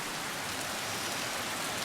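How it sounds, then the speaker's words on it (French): Heavy tropical rain pours steadily over a forest climbing site near a tree, a dense, continuous hiss of drops with no let-up and no voices. "Il pleut énormément"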